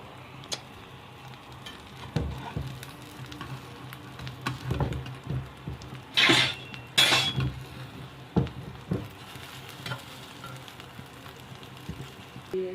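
Egg and bread frying in a pan give a soft, steady sizzle, broken by sharp clinks and scrapes of a utensil against the pan. Two louder clatters land close together midway.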